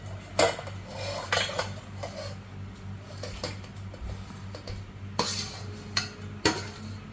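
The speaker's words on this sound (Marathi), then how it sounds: "हे अर्धा तास भिजवलेली मिरची आता आपण त्याच्या भांड्यात काढून घेऊ." Soaked green chilies being transferred into a metal vessel for buttermilk chili, with several sharp clinks and scrapes of utensils against steel, close and clear, no talking.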